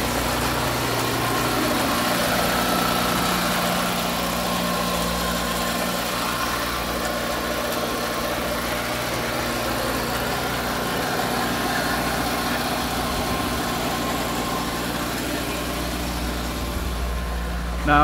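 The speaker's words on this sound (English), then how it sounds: "now the idle is a bit high because I haven't got the airbox on" A Peugeot 205 CTi engine, running again after a new starter motor was fitted, idles slightly high with the airbox off, a steady close rumble with faint vibration that continues evenly throughout.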